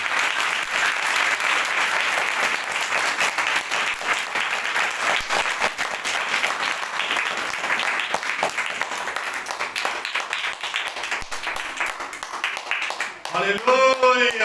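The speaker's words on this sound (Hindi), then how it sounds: "ताली बजा के बताइए।" A church congregation claps and applauds in a sustained, dense wash of applause lasting several seconds, fairly loud and even throughout, with a voice breaking in near the end.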